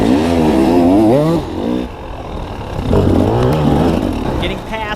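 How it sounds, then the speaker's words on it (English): A dirt bike engine revs hard during a hare scramble race, its rising and falling harmonic whine loud and close for a couple of seconds before dropping back, then climbing again under a rider's breathing and engine noise. "now there's somebody behind me revving it out"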